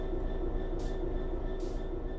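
Steady low rumble of a train in the Train Sim 3 game as it begins to move, with a constant engine drone and two brief hiss-like bursts, no talk.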